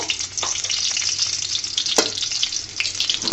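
Garlic frying in plenty of oil in a pan, a close, crackling sizzle with irregular spits and pops and a sharp stirring scrape partway through.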